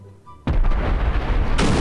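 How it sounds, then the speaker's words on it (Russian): A bomb detonates in the Garry's Mod video game with a sudden, loud, booming blast that roars on, followed by a second sharp crack of explosive noise near the end. "А она сильно взрывается"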